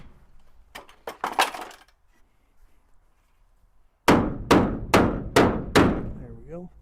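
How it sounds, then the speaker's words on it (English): A hammer drives a nail during work on a sawmill shed, landing five sharp, evenly spaced blows close by after some earlier lighter clinks and taps. "Can you hand me that hammer, please?"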